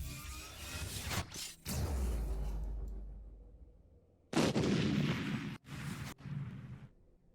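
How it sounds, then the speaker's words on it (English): A small explosion booms from down a hallway as a sound effect in a tabletop role-playing game, with several loud, broad bursts and a rumbling decay, all without talk. "You see a small explosion occur, or rather hear one from down the hallway."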